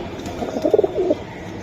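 A pair of Silver Giribaz pigeons coo softly in a short, throaty burst of several quick pulses, close by and moderately quiet, with no talking over it.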